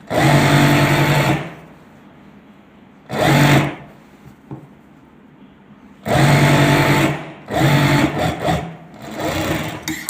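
An electric sewing machine stitches trouser fabric in bursts, a steady high-speed whir running for a second or two, pausing, then starting again, with several quick stop-start runs close by and no talk over it.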